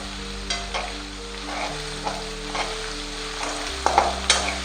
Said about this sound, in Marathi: अद्रक लसूण पेस्ट सुद्धा यामध्ये मस्तपैकी अशी शिजू देणार आहे मी